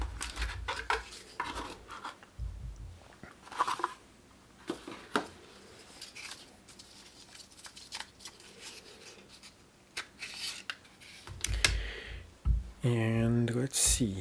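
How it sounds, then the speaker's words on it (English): An Odenwolf D2 tactical fixed-blade survival knife in a cutting test, giving scattered short slicing and scraping rasps, with a longer burst of rough cutting noise near the end, close up and intermittent. "let's go ahead and test it out, how this knife actually performs in a real life test"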